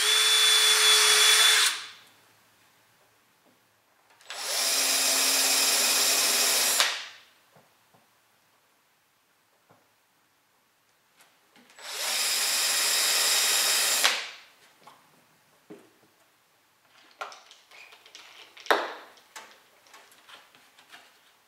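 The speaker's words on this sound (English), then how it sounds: "I'm going to drill 3 holes in each one and then countersink them" A power drill bores and countersinks holes in Teflon bars in three loud bursts of whirring, separated by quiet pauses, followed by faint clicks and handling knocks.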